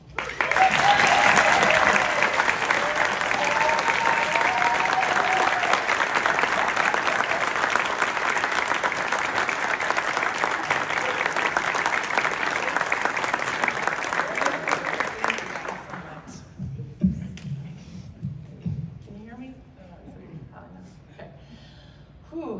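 Sustained loud applause from an audience at a press conference welcoming Brooke Wyckoff as the new FSU women's basketball coach, lasting about fifteen seconds before cutting off sharply into quieter room sound.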